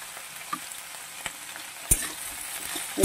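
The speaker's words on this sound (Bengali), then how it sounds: "ফুলগুলোকেও ভালো করে ভেজে নেব।" Drumstick flowers frying in a pan alongside potatoes, a steady close sizzle with scattered clicks of stirring and a couple of sharper scrapes, no voices.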